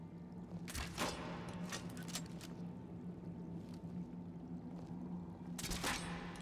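Crossbow shots hit wooden crates in Skyrim, a few sharp separate snaps and thuds spaced out over a low steady ambient drone, with no talking.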